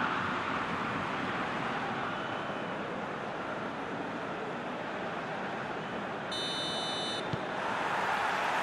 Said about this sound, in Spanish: Pitido inicial y el partido está en marcha.